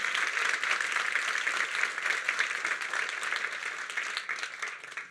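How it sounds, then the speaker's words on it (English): Applause for alumni and community at a coding bootcamp demo day at Google HQ, a dense, even roar of many hands clapping throughout, loud and sustained before tapering at the end. "Let's give our alumni and broader community a round of applause."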